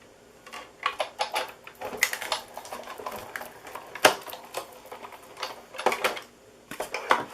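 Layered paper for a handmade shaped greeting card is cranked through a die-cutting machine, giving close, irregular clicking and ratcheting with intermittent sharp snaps over about seven seconds and no talking.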